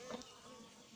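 A swarm of honeybees being hived hums in a continuous, faint, close buzz with no pauses over the whole brief moment.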